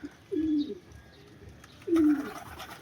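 Two soft, low pigeon coos about a second and a half apart, close by against a quiet outdoor background.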